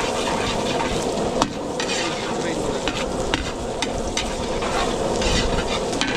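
Garlic and onion sizzle in hot oil in a catering kitchen, a steady dense frying hiss with occasional stirring scrapes and clinks throughout.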